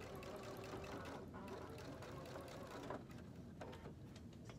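Sewing machine stitching in the ditch along a T-shirt band, a soft continuous mechanical hum with light rhythmic ticking, faint and close, with no pauses.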